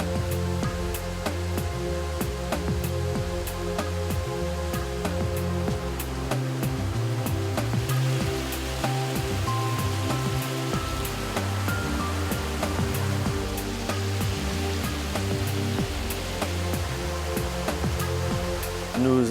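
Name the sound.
clear water overflowing a settling basin at a sewage treatment plant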